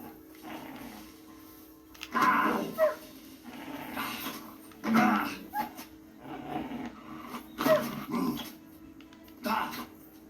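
Dogs in the medieval action role-playing game Kingdom Come: Deliverance II growl and snarl in repeated loud bursts every second or two, mixed with speech.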